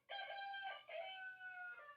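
A rooster crows in a single drawn-out cock-a-doodle-doo, loud and close, with a strong rising-then-held call lasting about two seconds.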